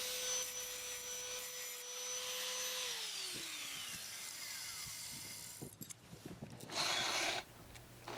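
Thick steel plate for a lid and chimney part has its cut edges smoothed with a power tool, a steady whirring grind with a descending pitch as the tool spins down, then scraping and rubbing contact noises and a brief louder burst.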